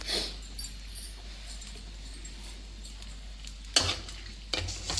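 Tempering of seeds, curry leaves and dried red chillies frying in hot oil for a Telugu tomato and new-tamarind roti pachadi: a steady soft sizzle with stirring, and two sharper spoon-against-pan clatters near the end, no talking.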